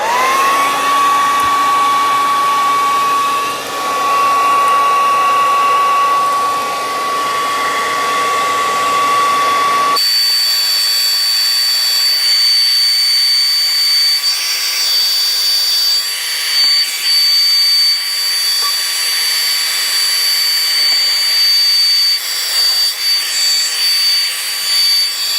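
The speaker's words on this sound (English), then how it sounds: "take a simple hairdryer and heat up some of these components" A handheld hairdryer blows hot air over small plastic parts to melt ice out of their crevices, a loud steady whine and rush that runs the whole time, its pitch shifting once midway as the setting changes.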